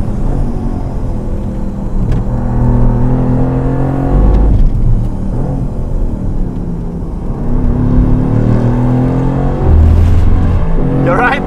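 A 2019 Formula 1 car on a Pirelli hot lap roars continuously from inside the cockpit, its engine droning loud and steady with shifting pitch through gear changes and braking, people talking over it.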